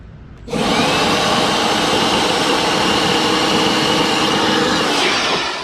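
An air pump starts abruptly and roars steadily, loud and close, while inflating a Scout 430 inflatable boat through an opened valve, running without pause to the end.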